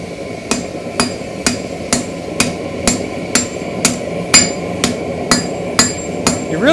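Steady hammer blows ring on hot metal over an anvil while a keris blade is forged, about two strikes per second, loud and close with a bright metallic ping on each hit.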